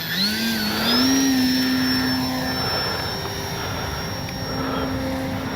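An FMS RC model plane flies overhead, its electric motor whining loud and near with a rising then steady pitch, easing slightly as it passes.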